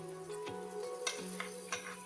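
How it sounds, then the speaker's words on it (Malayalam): Tomato puree stirred into sizzling chilli powder and oil in a pan for a Kerala-style mackerel curry, a steady close frying hiss with a few sharp spoon scrapes and taps against the pan. "ഇനി ഇതിലേക്ക് നമുക്ക് അരച്ച് വെച്ചിരിക്കുന്ന 2 തക്കാളിയുടെ പ്യൂരി ഇട്ട് കൊടുക്കാം"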